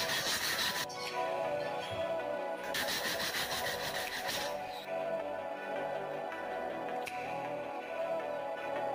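A hand saw cuts through wood in close, rhythmic rasping strokes, with short pauses between bursts.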